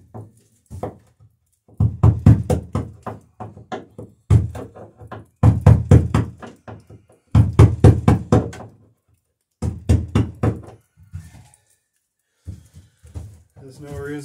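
Mallet knocking on solid blocked rails, bursts of rapid sharp knocks in uneven groups separated by short pauses, fairly close and loud.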